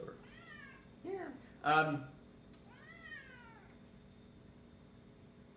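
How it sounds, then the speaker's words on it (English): A cat meows several times in a quiet room during a physics lecture, with rising and falling cries, one louder and sharper than the rest, and a brief word spoken between them. "And now he's going to start meowing."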